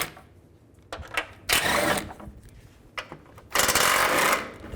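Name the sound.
ratchet with 15mm socket removing shield bolts under GMC Yukon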